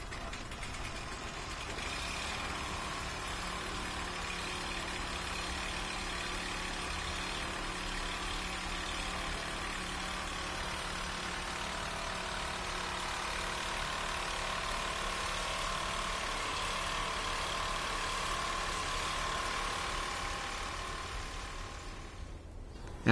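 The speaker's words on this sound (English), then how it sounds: "Then start up your blower and let it run for about 10 minutes." A Toro snowblower engine idles steadily for the whole stretch, a constant mid-pitched running drone with no talk, held at an even level from start to finish.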